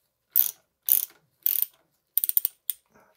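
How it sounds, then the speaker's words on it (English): A ratchet with an 8mm socket loosens a bolt on a 2019 Fox Rhythm 34 Float fork: five close, sharp bursts of rapid pawl clicking separated by short pauses, with no talking. "So we're gonna start off with an 8mm socket. Okay, I'm gonna unscrew this."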